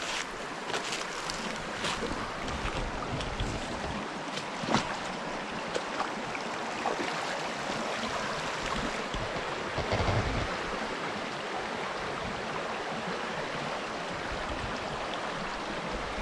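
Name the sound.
creek water flowing while walking in it in boots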